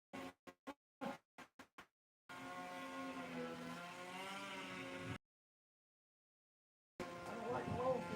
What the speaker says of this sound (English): Y'all hear that weed eater running?